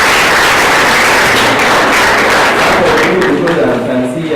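Sustained applause from a large audience at a university white coat ceremony, a dense, steady wash of many hands clapping, loud and close, fading slightly toward the end.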